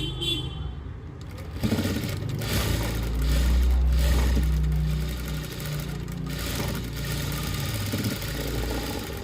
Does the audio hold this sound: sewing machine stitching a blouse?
yes